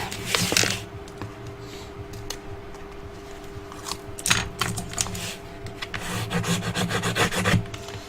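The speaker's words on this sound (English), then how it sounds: "Fold it down and then burnish." A folded paper album backing being burnished by hand: repeated dry rubbing and rasping strokes in uneven bursts, close and fairly loud, with short pauses between passes.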